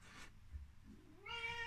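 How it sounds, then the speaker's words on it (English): A house cat gives a short, clear meow near the end, preceded by faint soft rustling in a quiet room. "That's my cat, Major Tom."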